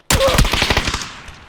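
Automatic machine gun fire in the video game PUBG, a loud close burst of about a dozen rapid rounds lasting under a second, then a fading echo and tail, no voices.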